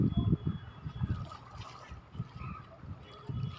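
Water lapping and splashing at the bank of the Ganges while a rowing boat crosses, with choppy waves breaking in uneven surges, loudest at the start and again near the end, close by and moderately faint.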